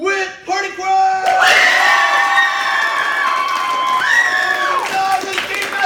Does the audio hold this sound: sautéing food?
no